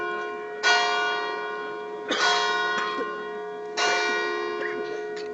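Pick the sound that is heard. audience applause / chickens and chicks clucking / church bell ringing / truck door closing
church bell ringing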